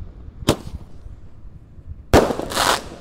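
Two sharp firework shots from Indonesian mercon and petasan bang outdoors, a single crack followed by a louder blast that trails into a crackling fizz.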